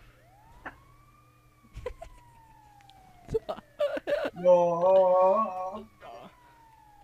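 Ambulance siren in GTA Online wails in a long, steady tone, rising then sliding down, with car noise and a panicked player shouting and talking over it before a louder tonal honk-like burst.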